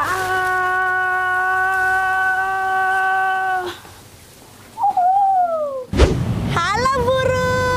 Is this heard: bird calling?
yes